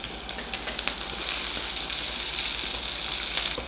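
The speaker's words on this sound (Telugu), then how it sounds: "చక్కగా ఫ్రై అవనివ్వండి." Dry red chilli and curry leaves frying in hot oil in a pan, a dense hissing sizzle with a few sharp crackles, close and steady, no talk.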